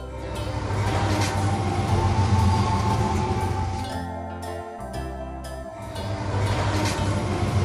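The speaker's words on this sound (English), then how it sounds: "Tram." A tram rolling along a street, a steady loud rumble of wheels and motor with a brief dip and bell-like tinkling, continuous throughout with no talking.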